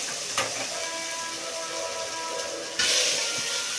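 Food for chicken biryani sizzles and hisses in a hot pan, a steady crackling fry with a sudden louder burst of sizzle near the end.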